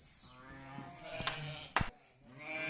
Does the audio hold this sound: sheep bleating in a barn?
yes